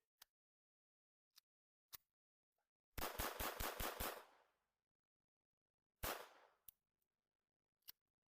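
Walther PP pistol fired at close range: scattered single sharp cracks, then a rapid burst of about seven shots, a few more isolated shots afterward, loud and crisp with short decays and no talk.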